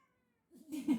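A pet cat meows indoors, a short soft cry after a moment of silence, swelling briefly and fading, close to the microphone with no one talking.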